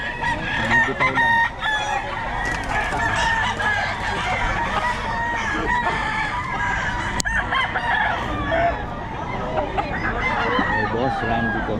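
Roosters crow again and again over constant chicken clucking at a busy Bocaue market, with people talking nearby throughout.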